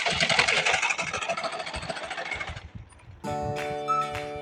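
A sewing machine runs steadily while stitching a blouse seam with a half-inch margin, a close, continuous whir with a rapid needle rhythm that pauses briefly before a smoother, more tonal motor hum resumes.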